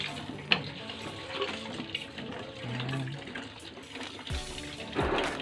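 Water running from a hand pump into the tank of a Sharp ES-FA750P top-load automatic washing machine, a steady close splashing trickle with a few louder surges, no talk over it.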